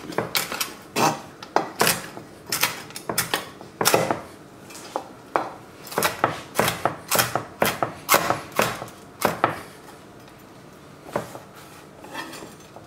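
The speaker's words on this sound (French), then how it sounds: "On prend les petites tranches de lard qu'on va voilà, hacher comme ça." A knife chops thin slices of bacon on a board in a steady series of sharp, close taps and knocks, quick clusters broken by short pauses, with no talking.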